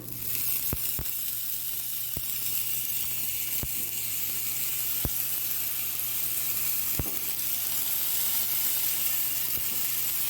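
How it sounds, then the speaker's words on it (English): Steaks for Philly cheesesteaks sear on a smoking-hot Blackstone griddle with a loud, continuous close hiss and sizzle, marked by a few sharp isolated pops. "the Blackstone is smoking up, so let's go ahead and lay these down"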